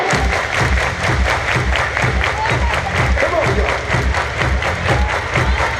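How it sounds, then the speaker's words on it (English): A crowd at a girls' junior national sports opening ceremony claps in a steady rhythm along with loud thumping dance music, while an MC shouts over it. "Everybody clap."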